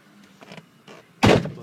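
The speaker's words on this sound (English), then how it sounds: "Close my door." A truck door closes with a single solid thunk at the end, preceded by a few faint soft rustles and clicks of handling.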